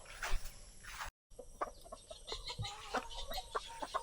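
Turkeys in their farm pen give scattered clucks and short calls at close range, with a brief dropout partway through and no talking.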